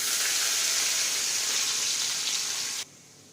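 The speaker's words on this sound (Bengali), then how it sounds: "রসুন একটু হালকা লাল করে ভাজা হয়ে গেছে" Chopped garlic frying in oil gives a loud, continuous close sizzle that holds steady for most of the stretch before cutting off sharply near the end.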